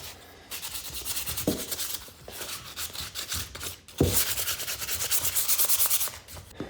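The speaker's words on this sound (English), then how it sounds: "Hit some of those high spots with some 220 grit sandpaper." 220-grit sandpaper rubs over a thrifted home decor piece coated in porous clay paint, making rhythmic, close, raspy strokes in two steady runs separated by a short pause.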